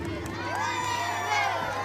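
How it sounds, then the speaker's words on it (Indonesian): A crowd of children cheering and shouting at a Scout campsite in Sangalla' Utara, a dense, sustained wash of high young voices with a constant hum underneath. "Tepuk tangan dulu, tepuk tangan dulu."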